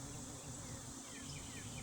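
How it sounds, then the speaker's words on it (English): Steady, dense buzzing of many honey bees at a hive entrance close by, a constant hum with individual insects whizzing past now and then. "Here's some activity at a hive entrance."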